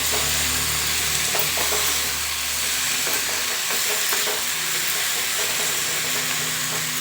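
Cumin and turmeric powder fry in a pan over a medium flame, a loud continuous sizzle and hiss with light stirring scrapes, steady and close with no voices.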